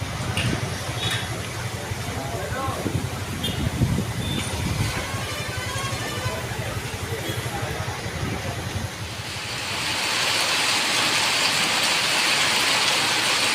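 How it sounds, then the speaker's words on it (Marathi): Steady broadband hiss of heavy rain, growing louder and denser partway through, with low rumbling from a vehicle or engine underneath. "जोराचा पाऊस लागला आहे हे तुम्ही पाऊस एकदम जोराचा पाऊस सुरुवात झाला आहे"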